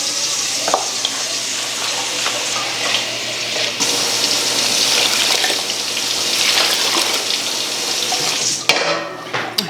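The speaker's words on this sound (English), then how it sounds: "Let me see how much water I can add here." Tap water running into a pot or sink during home cooking, a steady close hiss and splash lasting several seconds before cutting off with a brief clatter.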